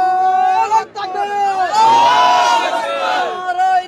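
A large crowd at a March for Gaza rally in Suhrawardy Udyan chants slogans in unison, loud and close, with many voices rising and falling together in sustained shouted phrases.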